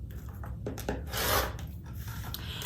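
Rasping, scraping strokes of a blade cutting through a sheet of cork for a wallet, the loudest stroke in the middle with quieter rubbing before and after, close and with no talking.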